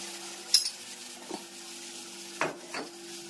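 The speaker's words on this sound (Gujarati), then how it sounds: "સરસ મજાનો વઘાર થઈ ગયો છે જોઈ શકો છો મસ્ત મજાનો વઘાર" Spices temper in hot oil for a green chutney recipe, a quiet sizzle under soft stirring, with a few light clinks of a utensil against the pan.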